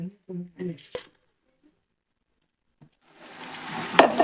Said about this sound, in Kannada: ಈಗ ಇದಕ್ಕ ನಾವು ಉಳ್ಳಾಗಡ್ಡಿ ಮತ್ತೆ ಟೊಮೆಟೊ ರುಬ್ಬಿದ್ದ ಗ್ರೇವಿ ಹಾಕೋತೀನಿ ಇದ್ರಾಗ